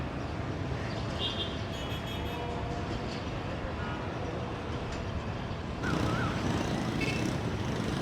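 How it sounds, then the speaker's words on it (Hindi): A train rolls steadily past toward Karachi Cantt at a halt station in Karachi, a continuous loud broadband rumble of wheels and carriages that swells slightly near the end. "आराम आराम से मज़े से हिलती जुलती जा रही है जी ट्रेन कराची कैंट की तरफ"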